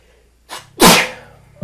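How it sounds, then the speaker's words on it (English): A single loud, close sneeze bursts out after a short inhaled build-up, followed by a quiet pause and a brief faint sound at the end. "I just sneezed."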